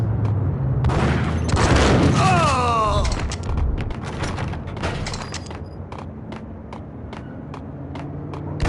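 Shotgun fire in the video game Max Payne, several loud booming blasts and gunfire bursts mixed with game effects and mechanical clatter, followed by scattered sharp shots.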